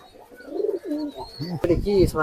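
Dhanneywala Malwai pigeons coo close by in a loft, giving a string of soft, low, rolling calls across the short stretch, with some faint background noise in between.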